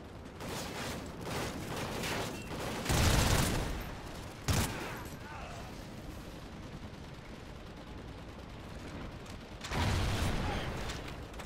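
Rapid automatic gunfire in Call of Duty: Ghosts, with bursts of fast shots rising loudly over a busy bed of game noise, several separate volleys and quieter mechanical clatter between them.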